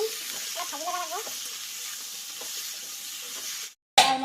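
Pigeon meat frying in a pan with potato, salt and turmeric, a steady close sizzle with light stirring scrapes, cutting out abruptly for a moment near the end.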